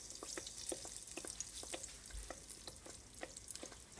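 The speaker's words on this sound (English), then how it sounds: "I'm gonna go ahead now to fry my float bake" Float bake dough frying in hot oil in a pan, a steady bright sizzle with soft popping crackles, fairly quiet and close, with no talking.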